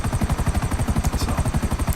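A helicopter in the video game GTA 5 gives a loud, steady, rapid rotor thumping that pulses evenly throughout, close and alone with no talking.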